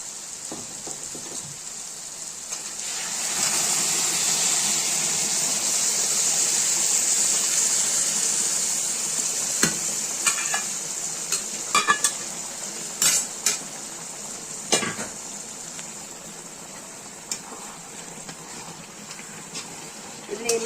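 Boiled country chicken is tipped into a pan and stirred, giving a steady hiss and rattle with sharp metallic clinks of a spoon against the pan scattered through the stretch.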